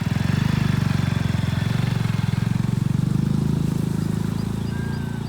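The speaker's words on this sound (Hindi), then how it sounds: "ये देखिए एक और बाइक आई यहाँ पे" A motorcycle engine runs steady and loud close by on a roadside along a Narmada pilgrimage walking route, with a rapid even thrum and no talking.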